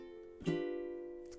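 Strummed ukulele chords, a quick change on each beat of a short four-beat ending phrase in a ballad, ringing close and clear with no voice over it.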